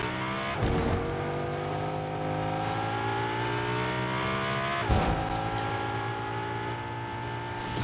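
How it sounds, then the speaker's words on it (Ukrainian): A car drives in the Fortnite video game, a steady engine drone with two brief sharp bursts, one early and one later, like bumps or skids. "Сідаємо в тачку і женемо місто."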